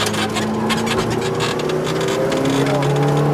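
A McLaren GT4 race car accelerates hard on the Speed Vegas track, its engine note climbing steadily through the revs, loud and close with a voice talking over it.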